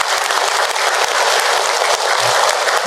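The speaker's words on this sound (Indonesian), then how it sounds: "Tepuk tangan buat kita semua." An audience at a Ramadan religious lecture gives loud, close, sustained applause. The clapping is thick and continuous from start to finish, with no talking over it.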